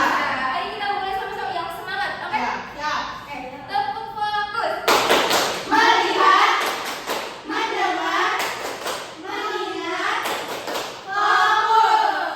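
In a classroom, pupils clap a rhythmic 'tepuk fokus' chant together with a teacher, chanting voices mixed with sharp, patterned hand claps that grow louder and denser midway through.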